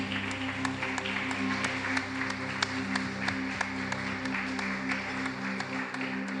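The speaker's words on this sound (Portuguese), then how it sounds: "Você pode aplaudir a Jesus?" A church congregation at a couples' service claps for Jesus, a sustained patter of many hands over a steady droning hum of instruments or sound system, moderately loud and continuous with little speech.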